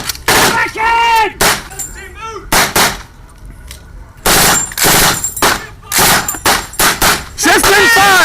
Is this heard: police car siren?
no